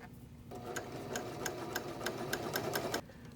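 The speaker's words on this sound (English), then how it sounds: "Stitch along the edge, cutting a small amount from the edge." A serger sewing machine stitches a lettuce edge hem on stretchy fabric, trimming a little from the edge as it runs in one steady, rapid mechanical whir with rhythmic ticking, fairly quiet and alone.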